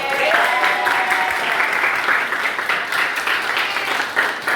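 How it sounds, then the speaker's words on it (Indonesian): Students in a classroom burst into steady applause for a classmate's correct answer during a religious studies lesson, a close, continuous patter of many hands with faint voices mixed in. "Kasih tepuk tangan."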